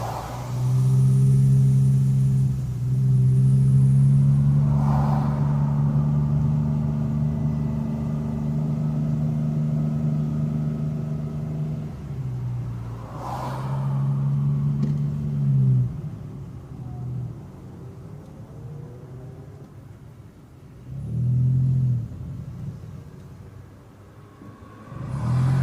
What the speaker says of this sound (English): Having a downshift in my little 3-cylinder car.